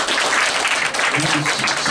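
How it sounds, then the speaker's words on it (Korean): Audience applause after a lecture and Q&A session on Europe's energy transition, a dense, loud, continuous clapping from a crowd filling the whole short stretch. "다시 한번 박수 부탁드리겠습니다."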